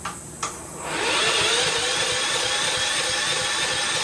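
A Subaru EA175V mower engine turns over on its electric start after a brief click, then catches and runs at a steady, loud, buzzing roar.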